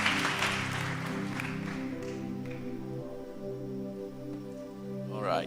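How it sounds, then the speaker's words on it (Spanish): A church congregation applauds, scattered hand claps fading out, heard softly under lingering organ or keyboard chords that sustain beneath them. "darle un buen aplauso al Señor una vez más"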